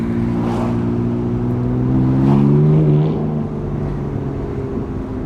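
Loud, deep exhaust drone from a BMW M3 F81 Touring wagon with an aftermarket exhaust, driving between buildings. The engine note rises briefly in pitch around the middle as it revs, then settles back, close and continuous.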